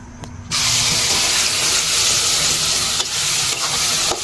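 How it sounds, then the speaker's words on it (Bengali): Eggplant mixed with egg fries in hot oil in a pan, a loud steady sizzle that jumps up suddenly after a short quiet start and hisses on continuously with small crackles. "তো এখন হচ্ছে ভাজি করে নিব"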